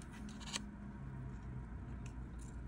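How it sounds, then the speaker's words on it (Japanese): Scissors snipping through folded origami paper for a July yo-yo craft, a couple of short crisp cuts close by over a steady room hiss, no voices. "ハサミを入れます。"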